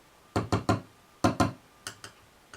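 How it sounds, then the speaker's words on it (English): Quick fingertip taps on the pickups of a newly assembled bass guitar, coming through an amp in two clusters of three sharp thumps and then two fainter ones, close and alone. "I need to just tap the pickups"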